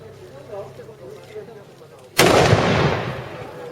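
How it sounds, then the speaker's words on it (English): A mortar fires with one loud, sharp boom at a war reenactment weekend, followed by a long rumbling decay, after a stretch of quieter background chatter from the crowd. "The advantages of mortars is that it can fire over buildings and trees."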